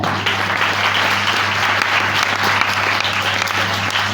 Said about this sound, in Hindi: हालेलुया, ताली बजाएं।